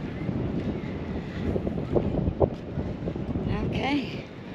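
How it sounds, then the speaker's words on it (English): Sustained wind blows off Lake Ontario at Old Fort Niagara, a constant low roar buffeting the microphone with no gusting breaks, while faint voices and a brief higher chirp sound briefly near the end. "the wind blowing off of Lake Ontario"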